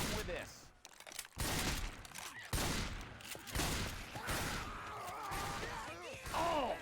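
Dense gunfire from the Gears of War match on the Hard Rain: Downpour map, bursts of shots and impacts layered continuously with players talking over the action.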